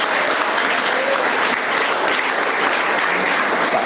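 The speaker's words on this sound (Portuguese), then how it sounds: "Você pode aplaudir ao Senhor?" A church congregation at a pastor's investiture service applauds loudly and continuously, a dense, even wash of clapping that holds steady throughout.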